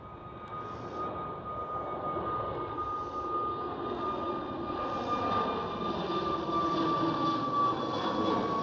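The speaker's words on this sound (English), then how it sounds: "So there goes the A320neo." Airbus A320neo airliner passing at Schiphol Airport in Amsterdam, a steady broadband jet engine roar with a sustained whine, holding loud and even throughout.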